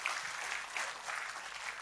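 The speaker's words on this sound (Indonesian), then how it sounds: "Kita kasih tepuk tangannya boleh paling meriah buat Tuhan kita." A congregation applauds during a church service, a steady wash of many hands clapping at a moderate distance, sustained without a break.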